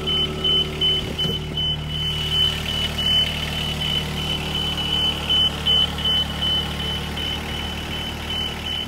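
A Duralift Jibbi boom lift sets off driving, its engine giving a steady, near low rumble while a faint repeating high beep pulses in short regular bursts above it.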